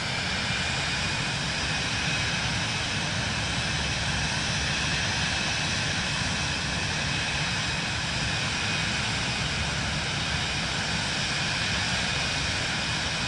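An aircraft engine in Microsoft Flight Simulator 2024 gives off a steady, loud, even drone that barely changes throughout, a constant roar with no speech, during a climb near St Barts.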